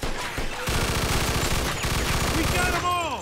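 Sustained machine gun fire in the Mafia II video game, a loud, fast, steady stream of close shots lasting several seconds.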